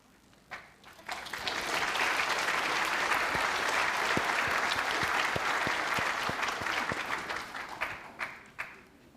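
A university audience applauds after a speech by New Zealand Prime Minister Jacinda Ardern. Clapping swells quickly into a long, steady ovation, then thins to a few scattered claps at the end.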